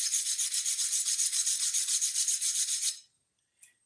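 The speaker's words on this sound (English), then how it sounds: "if I scrub on it just a little bit with a wire brush" A wire brush scrubs scale off a vinegar-soaked knife blade in rapid, even back-and-forth strokes, bright and close. It stops abruptly, followed by a brief faint scrape.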